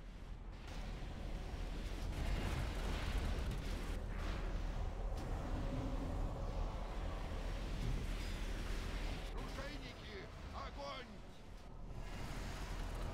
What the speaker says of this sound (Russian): Корабль под обстрелом.